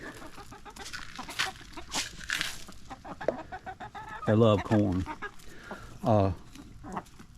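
Chickens in a backyard flock's pen cluck and squawk close by in short bursts, with a few louder harmonic calls, while a person speaks briefly among them.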